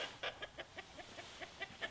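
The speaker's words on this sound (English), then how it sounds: "Chickens." Several chickens cluck in quick, uneven bursts, close by, with soft background noise.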